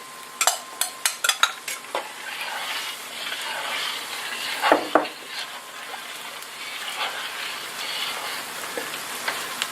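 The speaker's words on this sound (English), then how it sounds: "just keep stirring it for a little bit till it comes back to a boil" A pot of stuffed sausage and banana pepper soup being stirred on a high flame: a quick run of spoon scrapes against the pot at the start, then steady bubbling sizzle with occasional clinks, close and fairly loud.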